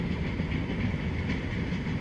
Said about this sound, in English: the train tracks run right behind the corporate offices.